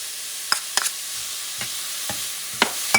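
Ingredients being stirred in a pot of Puerto Rican chicken and pork asopao: a few scattered scraping knocks of a utensil against the pot over a soft, steady sizzle, close by with no talk.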